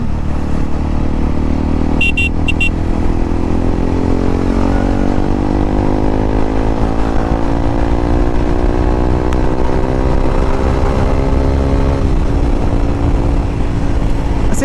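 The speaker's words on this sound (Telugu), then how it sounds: "ట్రాఫిక్ ఎందులో నాయన ఇంతగానంగా ఉంది" A KTM RC 390 BS6 motorcycle riding through heavy road traffic, its engine droning loudly and continuously up close, pitch rising and falling as it accelerates, with other vehicles around.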